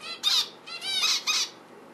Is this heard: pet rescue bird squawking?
yes